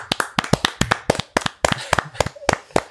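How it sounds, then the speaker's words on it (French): A small group claps in quick, slightly ragged bursts of applause, sharp close hand claps repeating steadily for a few seconds without talk. "3, 2, 1, petit tonnerre d'applaudissements"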